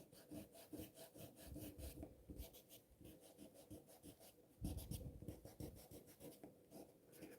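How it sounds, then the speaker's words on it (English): A pencil eraser rubbing out guidelines on a drawing, with quick back-and-forth scrubbing strokes in bursts, close and quiet, no talk. "erase some of my guidelines"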